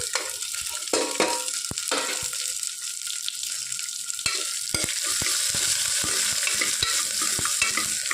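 Chopped onion and dried red chilies fry in a pan while a spoon stirs them, giving a continuous close sizzle punctuated by many sharp scraping and tapping strokes, with no voices.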